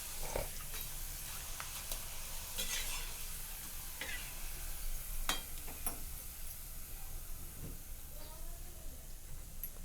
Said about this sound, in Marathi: तर बघा आता मी 2 कुरवड्या तुम्हाला ह्या तळून दाखवलेल्या त्या